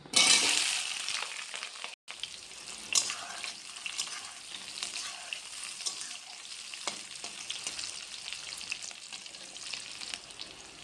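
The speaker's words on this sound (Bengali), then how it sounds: "তেল গরম হয়ে গেছে, দিয়ে দেব পেঁয়াজ কুচিগুলো।" Chopped onions hit hot mustard oil and fry with a continuous crackling sizzle, close by and fairly steady, with scattered stirring clinks and a brief cut in the sound early on; no one speaks.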